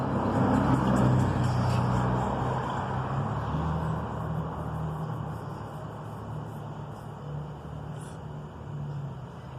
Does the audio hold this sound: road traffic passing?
yes